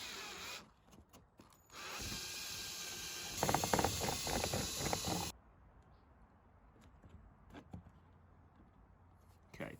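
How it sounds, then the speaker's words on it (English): Power drill with an 8mm bit widening a hole on a car for side skirt fitting, a few seconds of whirring with ratcheting bursts, then stopping into quiet room noise. "I am going to have to drill this hole out a bit wider than this"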